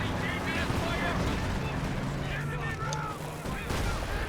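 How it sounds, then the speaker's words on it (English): Artillery fire in Company of Heroes 2 during a wartime battle, a dense continuous rumble of distant booms and blasts layered with wind-like noise and scattered battlefield clatter, with speech faintly mixed in. "They're firing a lot of artillery."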